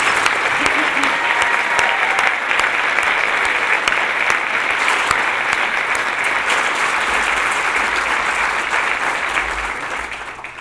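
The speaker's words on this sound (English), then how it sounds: "let's give them a round of applause" Dense, steady applause from an evening audience in Northglenn for the high school cadets, filling the room at even loudness and tapering slightly at the end.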